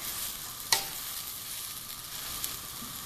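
Pad thai being stirred as it fries in a pan, a steady soft sizzle with one sharp scrape or clink of the utensil early on and a fainter knock later.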